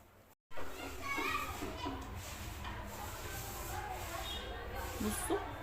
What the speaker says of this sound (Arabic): سمع صوت العيال بقى فرقع صواريخ أو بيلعبوا تحت الفوانيس